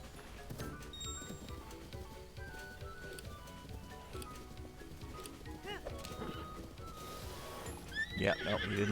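A horse in The Legend of Zelda: Breath of the Wild gives a loud whinny near the end while hooves clip-clop steadily underneath, with game music and effects running throughout.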